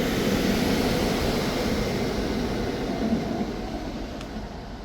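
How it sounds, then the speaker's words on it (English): Two Silverliner IV commuter trains heading toward Philadelphia pass close by with a loud, steady rolling rumble that fades slightly toward the end. "The two Silverliner 4s we saw earlier are now heading to Philadelphia."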